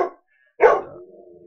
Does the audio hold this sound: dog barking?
yes